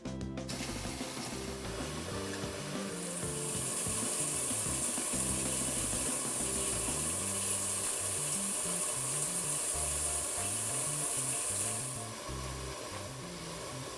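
Water pours steadily from a tap into a sink to soak plant pots, a continuous near hiss and splash with some clunks and rattling of the pots underneath, running for several seconds before easing off.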